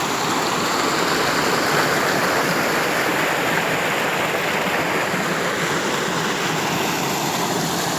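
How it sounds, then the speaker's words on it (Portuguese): The Véu da Noiva waterfall in Botucatu, São Paulo, roars as a loud, continuous broadband rush of falling water, steady and dense throughout with no voices. "Cachoeira Véu da Noiva, Botucatu."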